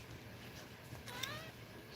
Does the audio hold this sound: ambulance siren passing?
no